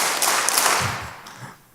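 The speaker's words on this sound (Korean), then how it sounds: "자, 박수 3번 시작." A church congregation claps in unison on cue, a few sharp, synchronized claps in quick succession, fairly loud and then fading out, with no talk over them.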